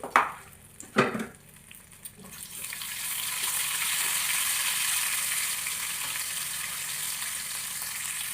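Dried red chillies and tempering seeds fry in a spoonful of hot oil for a tomato-mint chutney, a couple of sharp pops at the start giving way to a steady, close hissing sizzle that holds for several seconds.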